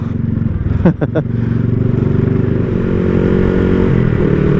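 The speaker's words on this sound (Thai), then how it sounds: "เสียงเพาะๆนะครับท่อผ่าจาก" Honda Wave 110i motorcycle with a modified exhaust pipe idling loudly close by, a steady throbbing engine with a couple of quick blips of the throttle early on.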